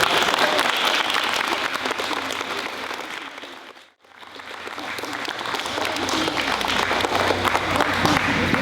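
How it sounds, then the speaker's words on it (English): At a fifth-grade recognition day, the audience claps for students in sustained dense applause that fades almost to nothing around the midpoint and then builds back up to full strength. "Please give these students a round of applause."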